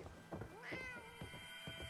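A cat in Fallout 4 gives a short, clear meow over a quiet game backdrop, alone and fairly close, lasting barely a second.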